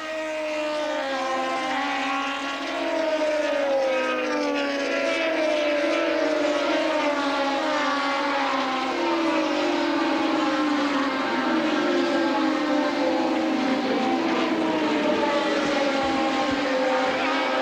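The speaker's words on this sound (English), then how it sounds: "Listen to the roar of these Grand Prix cars." Racing car engines roar and scream past, pitch sweeping up and down as cars accelerate and shift, a continuous loud high-revving blare.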